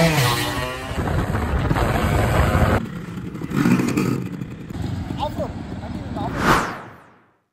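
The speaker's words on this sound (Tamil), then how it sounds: "ஸ்டார்ட் பண்ணி வண்டி ஓட விட்டுட்டோம்." An old Avanti motorbike in scrap condition starts and runs, its engine rumbling and clattering loudly throughout, with a sharp rev near the end before it cuts off; people talk over it.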